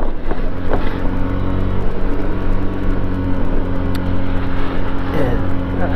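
A car on a street, heard from a small 150cc scooter: a steady low engine hum and road rumble close by, with a brief passing swell and some talk over it.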